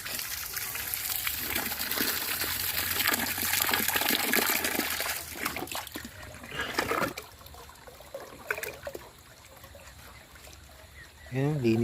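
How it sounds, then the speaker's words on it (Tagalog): Natural spring water flows and gushes steadily, loud and close for the first several seconds, then thins to a lighter trickle, with a person talking over parts of it. "Natural spring water."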